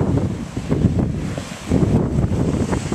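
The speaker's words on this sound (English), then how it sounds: "Ooh, that was a big wave, just splashed out." A big wave splashes out of high, storm-driven seas, a broad rushing wash of water over steady wind buffeting the microphone outdoors.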